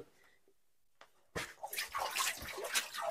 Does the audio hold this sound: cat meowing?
no